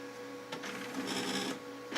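An OKI C332DN color laser printer runs with a steady whirring mechanical hum, rising into a louder rushing and grinding passage midway before settling, close and continuous.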